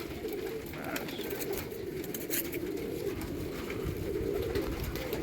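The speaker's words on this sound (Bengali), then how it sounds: "বাবু ভাইয়া ছাদে উঠে উচ্ছ্বাস করে পায়রা উড়াচ্ছে নিজের পায়রা" Rooftop pigeons keep up a soft continuous cooing murmur, close and quiet, with faint rustles of wings now and then.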